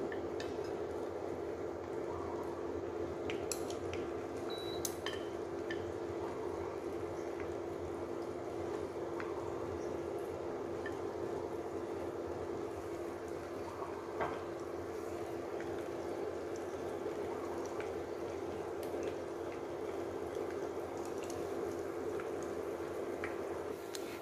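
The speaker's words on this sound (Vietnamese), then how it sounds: "cho thịt vào chiên" Vegetarian mock meat fries in a pan of hot oil, giving a steady, even sizzle and bubbling hiss that runs throughout with only faint, scattered pops and no voices.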